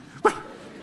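A man imitates a dog with a single short, sharp vocal bark, loud and close, standing alone against faint background noise.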